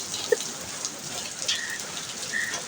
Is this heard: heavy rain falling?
yes